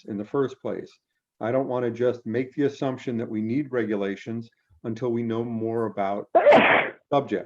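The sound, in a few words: sneeze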